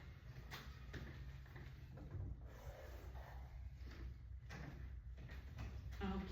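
A door in a home being pushed shut during an online math lesson, with a few soft bumps and a faint latch click over quiet room noise and no talking.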